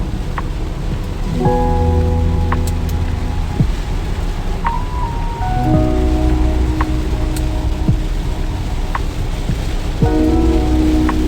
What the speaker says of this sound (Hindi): अब फिर से बारिश तेज हो गई है